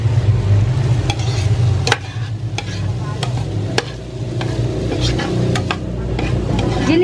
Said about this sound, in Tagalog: Gigisa natin yung gulay na akat hanggang ano siya,